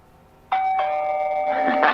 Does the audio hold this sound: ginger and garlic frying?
no